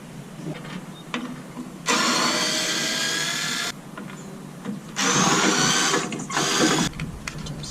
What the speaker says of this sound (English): So we're going to go ahead and take these 4 bolts out